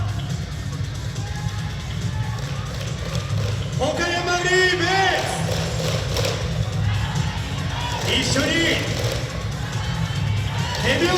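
A home crowd at a Japanese T.League table tennis match in Kurashiki chants and claps loudly and continuously for Okayama Rivets in the deciding game, while voices shout over the din.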